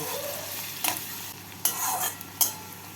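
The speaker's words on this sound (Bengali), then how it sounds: "পেঁয়াজগুলোকে হালকা বাদামি করে ভেজে নেব" Chopped onions and two bay leaves frying in hot oil over a medium flame, a soft steady sizzle broken by three sharp stirring scrapes of a spoon against the pan, no voices.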